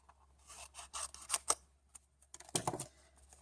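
Scissors trim Stampin' Up! paper smaller with several quick, close snips, then a slightly longer cutting rustle near the end, over a faint low hum.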